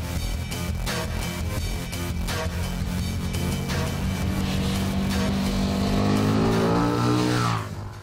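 A KTM 1290 Super Duke GT motorcycle runs hard on an oval circuit, its engine a loud, sustained high-revving roar that climbs steadily in pitch, then cuts off abruptly near the end, with no talk.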